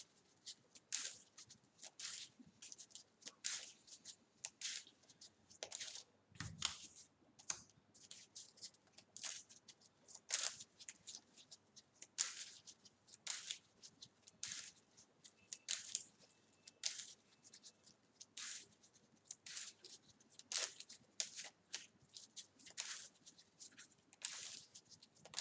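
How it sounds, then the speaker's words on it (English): A deck of game cards shuffled by hand during a card game, a long run of quick riffling and snapping bursts repeating steadily, close and fairly quiet, with no talk. "shuffle our deck up."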